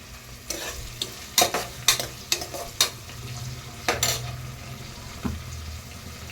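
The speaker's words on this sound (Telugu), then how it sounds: "ఆనియన్ అయితే ఫ్రై అవుతుంది ఆనియన్స్ ఫ్రై అవుతున్నాయండి" Onions frying in a pan for mutton curry, stirred with a utensil. A steady sizzle is broken by a series of sharp scraping clatters of the spoon against the pan.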